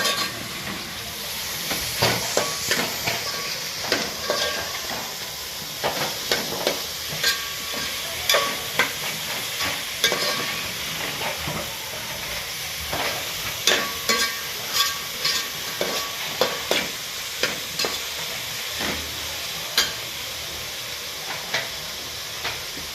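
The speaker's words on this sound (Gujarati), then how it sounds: "સરસ મજાનું આજે આપણે વેજીટેબલથી ભરપૂર એવું મંચુરિયનનો વઘાર કરી રહ્યા છીએ મિત્રો" Cabbage manchurian vegetables sizzle steadily in hot oil as they are tempered, with repeated sharp scraping stir strokes from a spatula against the pan throughout, close and fairly loud, no voices.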